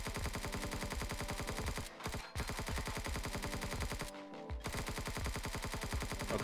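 Rapid automatic fire from a debug gun in a video game, a dense, loud, steady stream of shots broken by two short pauses, with no talk over it.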